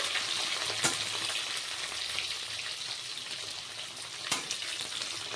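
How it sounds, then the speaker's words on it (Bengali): Steady close sizzling of large-cut onions frying in a pan, with a couple of sharp clinks of a utensil stirring. "তো পেঁয়াজটাকেও ভেজে নিই একটু"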